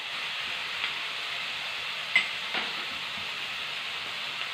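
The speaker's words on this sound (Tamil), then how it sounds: "தக்காளி வதங்கிட்டு இருக்கும் போதேவும் கலர்ஃபுல்லாக இருக்கிறதுக்காக நம்ம சிறிதளவு மஞ்சள் தூள் சேர்க்குறேன்." Tomatoes sauté in a pan with a little turmeric powder, giving a soft, steady sizzle at moderate level with a couple of brief stirring clicks and no voices.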